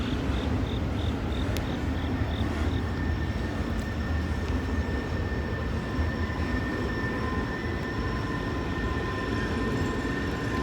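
A CSX freight train rumbles past steadily at close range, a continuous broad roar with faint high squeals and tonal whines from the rail, no voices over it.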